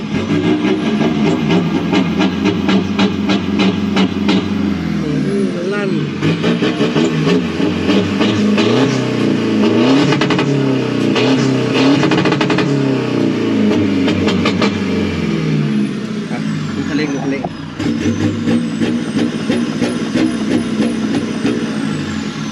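Modified Toyota Revo i-art pickup engine revving hard, with repeated loud throttle surges and sharp cutoffs over a continuous rumble, close to the vehicle, with no talk.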